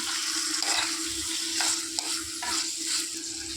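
Chicken sizzles steadily in a hot pan while a utensil stirs and scrapes it in repeated strokes, close up with no speech.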